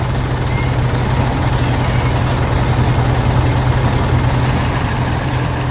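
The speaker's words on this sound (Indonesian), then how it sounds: "Traktor kuning sedang membawa kayu besar di tengah pertanian yang ceria" The engine of a yellow tractor hauling a big log across a cheerful farm rumbles in a steady, low, continuous drone, holding a constant idling pitch throughout.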